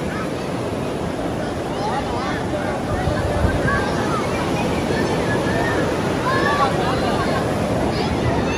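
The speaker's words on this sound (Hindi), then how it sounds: "यहाँ पानी का बहाव देखो फुल तेज़" A fast-flowing mountain river in Kashmir near Sudhan Gali rushes steadily with a dense, continuous roar that fills the whole stretch, loud and close, with no talk over it.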